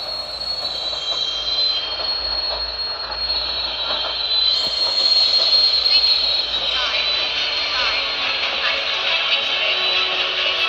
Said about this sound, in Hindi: गाइस ये हमारी ट्रेन रुक चुकी है।